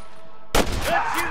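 A single sharp gunshot blast in the Red Dead Redemption video game, sudden and loud after near silence, followed by a brief reverberating tail and faint background game sounds.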